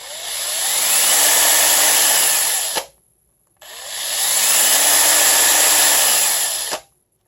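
A 21V cordless hammer drill whirs up to full speed and runs steadily, stops abruptly, then spins up and halts sharply a second time.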